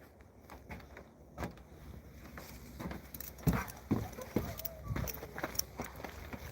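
Two donkeys walk outdoors, their hooves giving irregular clip-clop steps at moderate distance, with a person talking faintly in the background.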